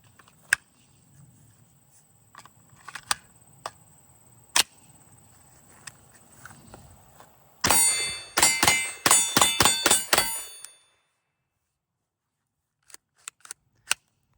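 Rapid gunshots from a folding Kel-Tec firearm striking a steel target ring out as about eight sharp, loud metallic clangs in quick succession, followed by a few fainter isolated pings and clicks after a quieter stretch of small knocks.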